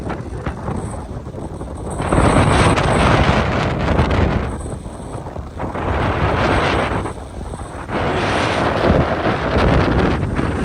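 Strong, roaring storm wind in Dubai buffets the microphone in loud surging gusts, with a few brief lulls between blasts, waves nearby.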